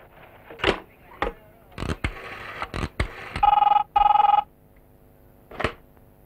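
A telephone rings in two bursts of electronic trilling, close and clear, with sharp knocks and clatter before and after in an otherwise quiet room.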